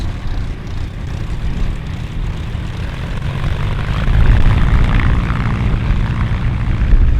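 Engines of the Canadian-built Lancaster bomber KB976, NX611 restoration, rumbling steadily during a taxi run, a loud, continuous low propeller drone that swells slightly halfway through.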